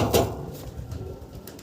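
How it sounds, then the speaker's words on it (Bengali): A Lark pigeon gives a short, low coo near the start, followed by soft rustling and faint cooing in a quiet space. "লার্ক কবুতর আপনারা দেখতেছেন"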